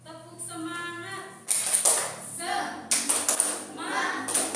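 A school class does a rhythmic spirit clap, with bursts of group clapping and tapping between stretches of chanting voices.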